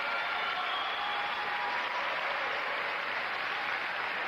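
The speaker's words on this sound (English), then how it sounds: "they seem to get the louder ovation from the fans here" Dense, sustained applause from an arena crowd for a figure skating ice dance couple at the 1992 World Junior Championships, a loud even ovation filling the whole stretch.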